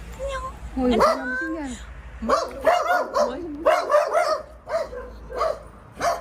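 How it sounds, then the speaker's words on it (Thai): A dog barks repeatedly at a home's front yard, a run of close, loud yips and barks with whimpery tones, with people talking in between. "มันเห่าเฉยๆแต่ว่าหางมันกระดิกอยู่"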